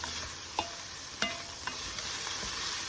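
Stuffing ingredients frying in a pan, a steady close sizzle with a few soft clicks and scrapes from stirring spread through it.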